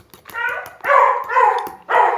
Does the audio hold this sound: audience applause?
no